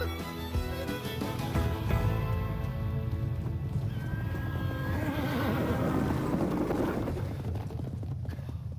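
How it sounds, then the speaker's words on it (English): A wild horse lets out a long, loud whinny over the sound of hooves clip-clopping nearby, the neigh rising and trailing off across several seconds. "Consarn it, it's that wild horse again."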